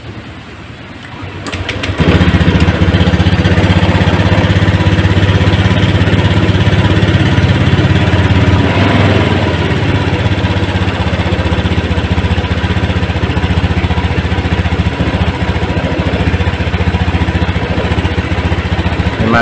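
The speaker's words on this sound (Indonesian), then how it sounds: "Ini setelah injektornya kita pasang, kita coba nyalakan mesinnya" A Honda Scoopy fuel-injected motorcycle engine with a misfire problem cranks and starts, then settles into a loud, steady close idle that runs on without a break.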